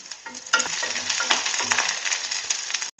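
Halved small onions and garlic cloves sauté in a pan, an intense sizzle that starts abruptly, churns with stirring scrapes and bubbling, then cuts off sharply near the end.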